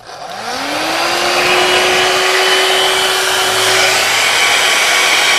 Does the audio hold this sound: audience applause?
no